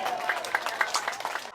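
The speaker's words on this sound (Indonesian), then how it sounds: "Tepuk tangan untuk Karang Taruna Ngalau." Audience applauds a youth organization, Karang Taruna Ngalau, at a community event in Padang Panjang, with dense steady clapping over a brief moment that cuts off abruptly, a voice faintly mixed in.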